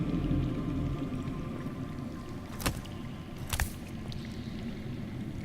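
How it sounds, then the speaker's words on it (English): Underground water runs in a steady, low murmur through a dark cave in a Game of Thrones video game, with a couple of sharp splashes or drips partway through. "That's water. I hear water. From underground."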